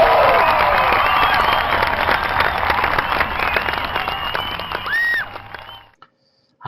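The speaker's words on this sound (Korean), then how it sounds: "이 인위적인 박수 소리." Canned applause and cheering sound effect on a Korean food show comparing In-N-Out and Shake Shack burgers: a dense, steady wash of clapping and crowd noise that cuts off abruptly near the end.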